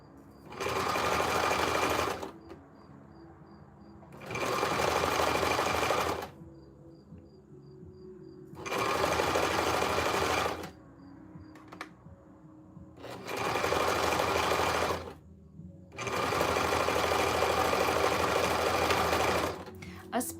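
A sewing machine stitches fabric in five separate runs of rapid, even needle chatter, each lasting a couple of seconds, with quiet pauses between them.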